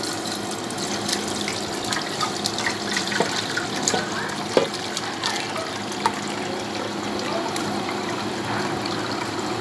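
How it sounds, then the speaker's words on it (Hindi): Homemade plum (aloo bukhara) sharbat poured through a sieve, with liquid trickling and dribbling in a steady, continuous stream and faint clinks, with no talking. "अब इसको मैं छान लूँगी"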